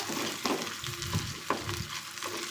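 Dal fries in a pressure cooker while a spoon stirs it, a continuous sizzle broken by a few sharp scraping knocks from the stirring, close and with no talk.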